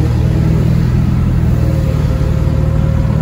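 A Ford F350 pickup engine runs steadily while driving, giving a constant low rumble throughout with no voices.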